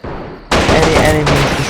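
Gunfire in the World War II strategy game Men of War: Assault Squad 2 erupts abruptly as loud overlapping shots and bursts, with a voice talking over the battle.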